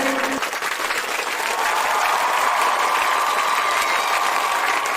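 Loud, sustained applause from a crowd at a gathering on unemployment solutions, a dense, even roar of clapping that holds steady throughout.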